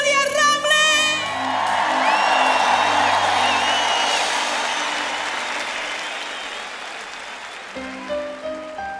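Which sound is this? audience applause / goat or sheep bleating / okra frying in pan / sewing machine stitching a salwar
audience applause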